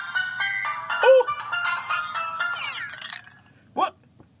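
A bright electronic melody rings out from an HTC Dream (T-Mobile G1), the first Android phone, as a series of stepped synthetic tones, loud and close, with a brief voice near the end.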